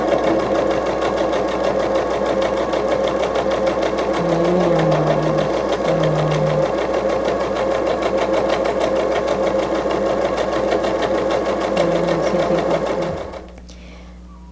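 Home sewing machine running a security stitch along the sides of fabric for a remote control holder, a fast steady mechanical whirring buzz held continuously for about thirteen seconds before stopping.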